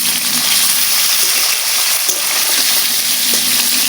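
Tilapia fish frying in a pan as it is flipped over, giving a loud, steady broadband sizzle with no talking.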